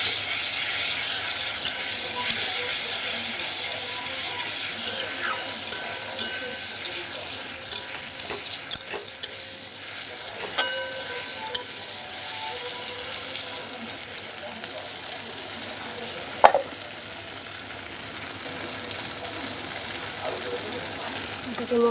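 Tomato and onion fry in a pan with ginger-garlic paste for a pointed gourd and prawn curry. A continuous close sizzle and hiss is broken by scattered scraping and stirring clicks.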